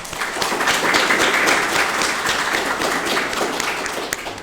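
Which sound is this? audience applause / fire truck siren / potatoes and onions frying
audience applause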